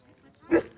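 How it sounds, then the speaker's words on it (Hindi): A single short dog bark or yelp in a Tehri Garhwal mountain village, a brief sharp burst standing out over quiet background. "इसको देखो कैसे भौंक रहा है"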